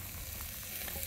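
Chicken and shrimp sizzle over a flaming firewood fire, a brief, steady crackling fry heard close up with no talking.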